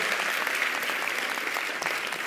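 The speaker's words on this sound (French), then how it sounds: "Sur les applaudissements." Steady applause from an audience at an award ceremony, dense and continuous clapping filling the whole stretch with no pauses.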